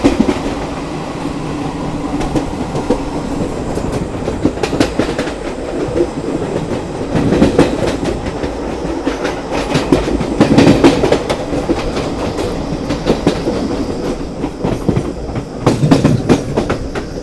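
The Azad Hind Express of Indian Railways running between Bilaspur and Nagpur: loud, close rhythmic clickety-clack of wheels over rail joints, with rumbling carriages and recurring bursts of clatter.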